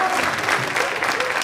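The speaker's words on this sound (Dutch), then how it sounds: "Applaus." Steady applause from a gathered crowd at a Sinterklaas arrival celebration, dense and continuous throughout at a moderate level with no gaps.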